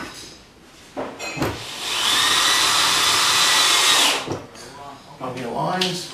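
A power drill drives a screw during a SOLID 2 rack installation, with a sustained whirring run of about two seconds, then short bursts, close and loud, and a person talking around it.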